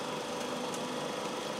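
Electric drill running steadily while opening M4 clearance holes to 5/32 in in a beginner's steam locomotive main frame chassis, a continuous whirring motor hum heard close up with no talking.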